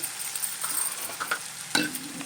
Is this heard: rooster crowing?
no